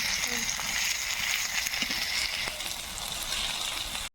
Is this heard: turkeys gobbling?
no